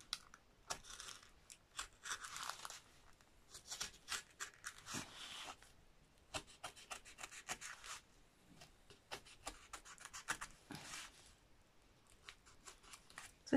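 Scissors snip and cut through paper in repeated crisp strokes, close by and moderately loud, with rustling between cuts during unpacking of Christmas scrapbooking supplies.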